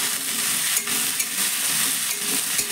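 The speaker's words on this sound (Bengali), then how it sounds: "তারপরে ফুলকপিটাকে নাড়াচাড়া করে একটু মশলার সঙ্গে এখানে ভেজে নিতে হবে।" Cauliflower stirred and fried with spices in a pan, a steady close sizzle with scraping stirring strokes throughout, no voices.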